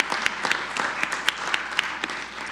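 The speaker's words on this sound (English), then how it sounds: "let's go ahead and give applause for District 4 candidates, Matt Bello and Stephen Shields." Audience applause at a candidate forum for District 4 candidates, a steady crowd clapping with sharp individual claps standing out, moderately loud and continuous throughout.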